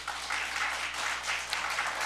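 A church congregation applauding during a New Year communion Sunday service, dense continuous clapping from many people at an even level, somewhat distant and roomy, with no talk over it.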